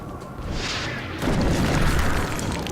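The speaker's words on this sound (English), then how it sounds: "Rockets away" A rocket fired in the XCOM video game hits and explodes with a heavy boom, a loud, rumbling, sustained blast that swells partway through and holds steady to the end.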